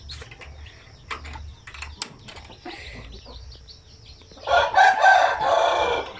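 Chickens inside their coop, with scattered clucks and short calls at first, then a louder burst of overlapping crowing and squawking from several birds close by near the end.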